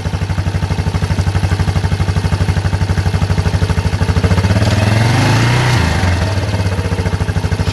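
A 1994 Yamaha Kodiak 400 ATV engine runs with a steady, close, loud pulsing idle, then the throttle is blipped midway so the revs rise and fall before settling back to idle.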